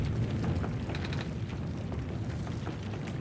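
Explosion in the video game OneShot, a deep, rumbling low roar sustained throughout with faint crackling bursts above, steady and fairly quiet with no talking.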